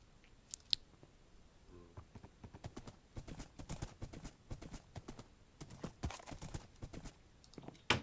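A horse's hooves clip-clop in a Minecraft-style survival server while it is ridden, a quiet, uneven run of hard knocks that goes on for several seconds with little else around it.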